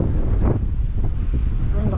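Strong, steady wind from an approaching typhoon before landfall in the Philippines, roaring and buffeting the microphone throughout, loud and continuous with low rumbling gusts.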